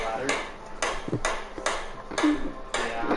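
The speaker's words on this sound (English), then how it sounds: "let's just take this over to our anvil and take a hammer to it and see what that does" Hammer blows striking small magnet squares on a metal anvil, six sharp metallic impacts spaced about half a second apart in a steady rhythm, close and fairly loud with no talking.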